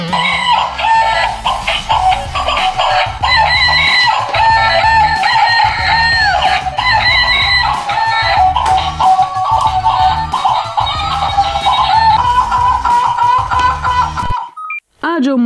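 A chicken clucks and a rooster crows over loud, busy music with a steady beat for about fifteen seconds. The music cuts out abruptly near the end.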